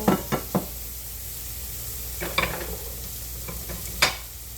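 Mushrooms frying in a pan just before gravy sauce is mixed in for homemade burger steak, with a steady sizzle and several sharp scraping knocks of a utensil stirring against the pan, close up with no talk.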